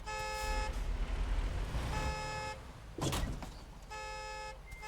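Car horn honks in several sustained blasts with harmonic tones, near and loud, over a steady engine or traffic rumble, with a brief thud between them and no talking.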